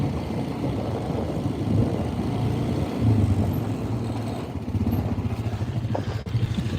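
A 4-wheeler ATV with new tires rumbles steadily at low idle as it is driven into a shop on a cold day, a continuous engine drone with faint clatter and no talk.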